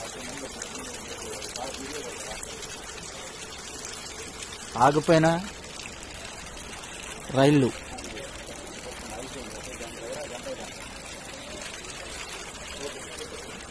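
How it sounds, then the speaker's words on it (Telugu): Floodwater streams steadily over the railway track at Dornakal station after heavy rain, a continuous rushing wash heard throughout, with two short bursts of a man's speech over it. "ట్రాక్ మీదకు వచ్చిన నీళ్లు ప్రవాహంగా ప్రవహిస్తుంది."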